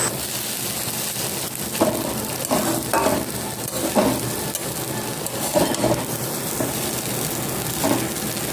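Chow mein stir-fried with potato, onion and green chili sizzles steadily in a pan, with recurring scraping stirs every second or so, close and moderately loud, no voices.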